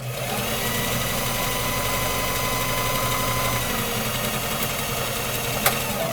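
A home sewing machine run by foot pedal stitches fabric with a steady, close mechanical whir that holds evenly for about six seconds, ending with a single sharp tick.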